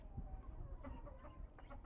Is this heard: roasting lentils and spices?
no